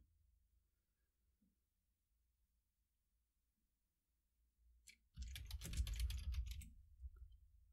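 Typing a name on a computer keyboard in a data entry demo, a quick close burst of key clicks arriving after several seconds of near silence.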